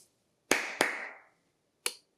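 Three sharp hand claps aimed at a clap-activated LED light in a quiet room: two quick claps close together, then a single clap after a short pause, each decaying with a brief ring.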